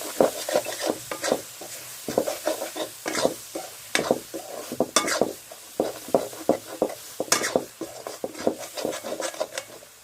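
A spoon repeatedly scrapes and stirs spiced egg pasta in a pan, in irregular close strokes over a soft, steady sizzle.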